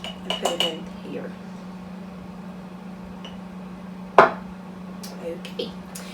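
A heaping tablespoon of yogurt is spooned into a glass jar, giving a few close clinks of spoon against glass and a sharp knock near the middle, over a steady low hum.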